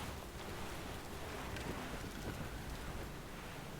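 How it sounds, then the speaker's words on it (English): Faint, steady wind blows in the Assassin's Creed Rogue video game, a soft continuous hiss with no other clear sounds. "That wind. That wind."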